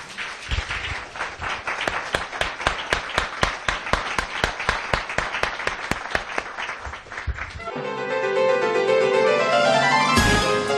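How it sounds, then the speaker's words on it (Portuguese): A Portuguese-speaking church congregation claps in a fast, steady rhythm for several seconds, each beat sharp and close. Sustained tonal music then takes over and the clapping stops. "Dê uma salva de palmas bem bonita para o Senhor"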